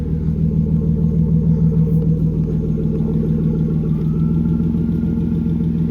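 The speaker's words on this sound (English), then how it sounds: "We got a little lifter tick, nothing to worry about." A BMW E36 engine idles loud and close with a steady low rumble; a slight lifter tick is described, but no distinct ticking stands out above the even, unbroken drone.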